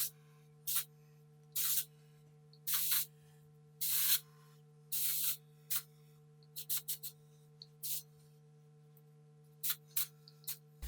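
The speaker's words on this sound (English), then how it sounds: "Texture spray is also good if your bangs fall flat." Short bursts of texture spray hiss close by as it is sprayed onto hair, several longer sprays followed by quicker spurts, over a steady low electrical hum.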